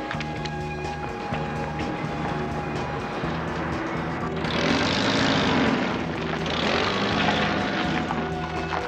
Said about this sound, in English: The engine just went crazy.